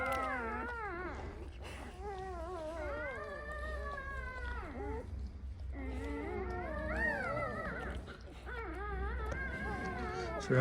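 Newborn puppies of a good breed, born the day before, whimper and whine in thin, high, wavering cries, close and continuous, overlapping one another for about ten seconds with only brief lulls.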